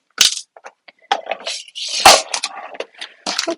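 Spare metal screws rattling and clinking in a storage container, heard as a burst of sharp, irregular metallic jangles and scrapes close by, with no talking.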